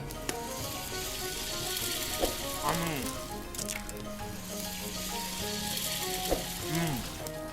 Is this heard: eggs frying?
yes